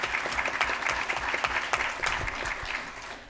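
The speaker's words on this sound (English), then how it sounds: "Ryan, will you stand up so that we can give you a round of applause?" An audience at a formal board meeting claps for several seconds in a steady, moderately quiet round of applause, with no talk.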